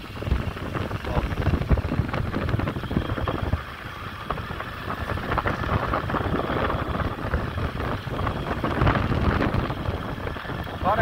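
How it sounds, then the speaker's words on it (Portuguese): Wind gusting steadily across the microphone at Praia das Fontes beach in Beberibe, a loud broadband roar with brief dips, heard alone without talk. "Agora é vento, galera."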